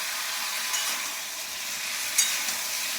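White radish hits a frying pan for a thin fish curry, giving a steady close sizzle with a brief louder crackle near the end, no talking.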